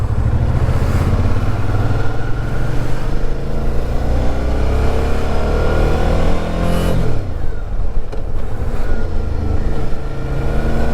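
A motorcycle engine drones steadily throughout while riding, with a rising pitch as it accelerates, a brief gear shift, then revving up again, loud and close.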